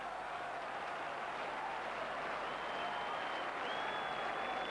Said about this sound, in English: Applause ringing round the ground for Sunderland this afternoon.